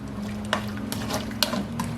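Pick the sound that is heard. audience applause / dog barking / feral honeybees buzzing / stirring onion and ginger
stirring onion and ginger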